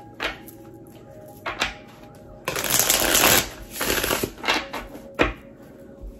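Tarot cards riffled and shuffled in several bursts, with a long crisp flurry in the middle and short snaps before and after, close and fairly loud.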